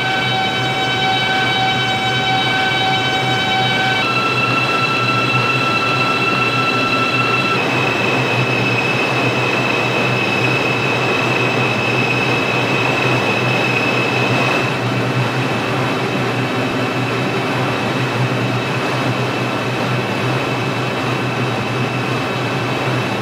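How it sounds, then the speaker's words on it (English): A New York line 6 Pelham Bay Park local subway train in the Android game Subway Simulator rolls on with a loud, steady rumble and sustained whining tones that shift pitch partway through, without any talking. "This is a Pelham Bay Park 6 local train."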